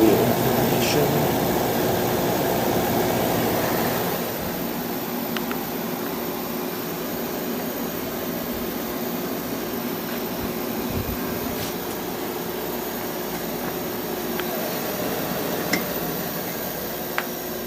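Basement air conditioner fan runs as a steady, broad whoosh that drops slightly in level after a few seconds, with occasional faint ticks and knocks from something striking the blades, no voices.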